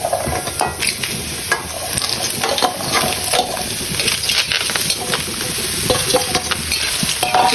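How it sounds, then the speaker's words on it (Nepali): Pudke mushrooms dry-fry in a pan with no oil, giving a steady close sizzle broken by frequent scraping and stirring clatter from a utensil, with no voices. "यसलाई सादा भुट्नुपर्छ, तेल नहालिकन"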